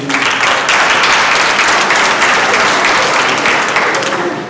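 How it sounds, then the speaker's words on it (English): A town hall crowd breaks into sustained applause, a dense wash of many hands clapping at once that holds steady and loud throughout before tapering slightly at the end. "You can clap if you want."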